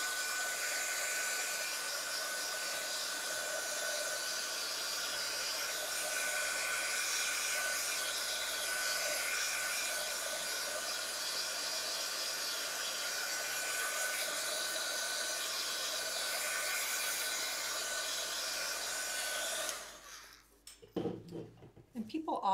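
A hair dryer blows steadily on a painted journal page, a continuous loud whooshing hum lasting about twenty seconds before cutting off into quieter handling sounds.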